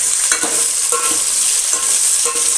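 Pieces of bottle gourd, okra and drumstick being stirred into Telangana-style sambar in a pot, a bright constant sizzle with a few spaced scraping strokes of the spoon, close and fairly loud, no voices.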